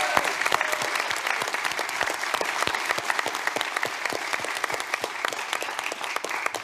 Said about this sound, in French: On applaudit Christopher.